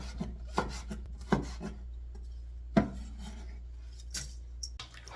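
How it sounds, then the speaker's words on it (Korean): Red chili cut into thin julienne strips with a knife on a cutting board, a handful of scattered dry taps and scraping rubs with quiet gaps between them, close and fairly soft. "홍고추도 채를 썰어 주겠습니다."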